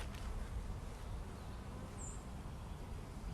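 Honey bees buzz steadily around a hive recently robbed out by other bees, a dense continuous insect drone heard close up with no voices.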